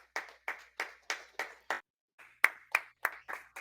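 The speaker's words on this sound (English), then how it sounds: "Everyone, give him another round of applause." Scattered claps ring out at a university 50th anniversary gala, about a dozen separate sharp hand claps in an uneven rhythm with a brief gap midway, faint and sparse rather than full applause.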